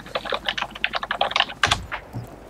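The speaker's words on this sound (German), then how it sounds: "es hämmert so auf deiner Tastatur rum." Rapid, forceful clattering of keys on a computer keyboard during Battlefield 3 play, close up, in an uneven burst of hard strikes.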